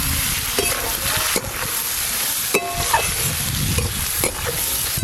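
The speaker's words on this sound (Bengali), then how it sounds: "আলু পেঁয়াজ একটু লাল লাল করে ভালো করে ভেজে নেব।" Sliced potatoes with chopped onion, turmeric and salt fry in a pan with a steady close hiss and sizzle, broken by repeated stirring scrapes and clinks of a spatula, no talking.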